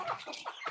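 Chickens with a rooster among them, cackling in short bursts at close range, a few quick clucks in under a second.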